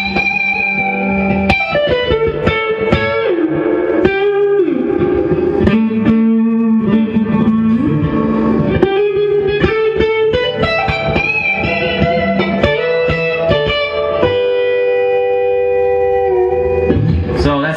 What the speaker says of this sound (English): let me show you the difference with reverb. It's going to give it a hall effect.